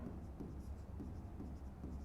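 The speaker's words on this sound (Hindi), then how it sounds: "तो यहाँ पे एक छोटा टर्म लिखना है" Marker or chalk writing on a classroom board during a physics lesson on the mirror equation, a steady low scraping that runs through the whole stretch with no talk over it.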